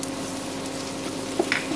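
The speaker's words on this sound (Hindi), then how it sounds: "तो चलिए अब इसमें हम ये प्याज भी डाल देंगे।" Onions frying in a pan with garlic for bread upma give a low, steady sizzle, with a few soft clinks or stirring taps near the end.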